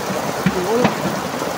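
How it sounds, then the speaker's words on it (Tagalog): Dense, steady rain roars over the whole moment, with a brief faint voice rising through the downpour. "Hoy, lakas na ulan."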